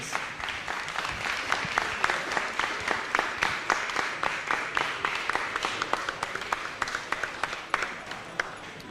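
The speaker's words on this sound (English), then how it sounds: "Can we have a big round of applause for the event, our sponsors and all the organisers" A crowd at a climbing competition claps steadily and fairly loudly, the dense applause holding an even pulse for the whole stretch with a few sharper individual claps poking through.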